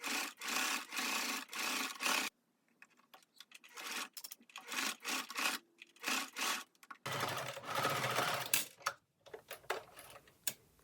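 A sewing machine top-stitching a hooded dress runs in loud bursts of rapid stitching separated by pauses and fabric handling, with a long steady run near the end, close by and without talk.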